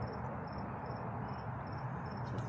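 Grasshoppers chirp in an autumn garden in October, a faint, evenly pulsing high trill repeating about twice a second over a low, steady outdoor rumble.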